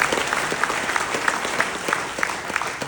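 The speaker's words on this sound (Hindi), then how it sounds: "मैं चाहूँगा जोरदार तालियों से अपने बच्चों का हम अभिवादन करें" An audience in a hall applauding children who have just entered at an International Day of Older Persons event, dense energetic clapping from a crowd with distinct nearby claps standing out, continuous for the whole stretch.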